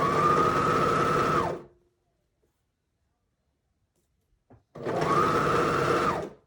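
A sewing machine stitches around a bra seam in two loud, steady bursts of whirring, separated by a pause of near silence, with no voices.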